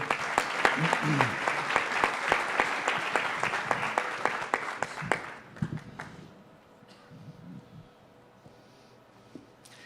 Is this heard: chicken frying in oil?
no